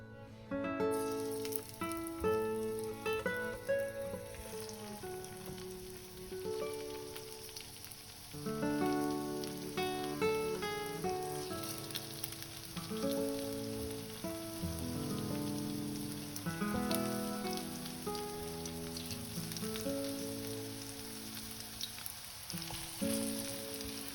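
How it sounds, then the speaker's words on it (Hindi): Arvi (colocasia) leaf pakode fry in hot oil with a continuous, rain-like crackling sizzle that runs steadily under louder background music. "तो फ्रेंड्स अब हमारा ऑयल गर्म हो चुका है। अब हम इसमें अपने पत्रों को रखकर सेकेंगे।"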